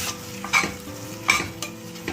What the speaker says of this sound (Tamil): தக்காளி இதே மாதிரி வந்து நல்லா மசிஞ்சு வதங்கி வர மாதிரி நம்ம வதக்கிக்கலாம்.